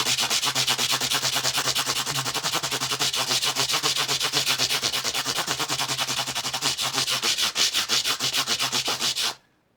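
Steady, continuous rasp of fine-grit sandpaper rubbed back and forth over guitar frets on a Brian May guitar copy, close and loud with a quick rhythmic stroke, stopping abruptly near the end.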